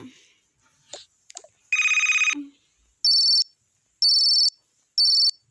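A phone rings in the Toca Life video game, three short, loud, evenly spaced electronic trills after a longer tone and a few small interface blips.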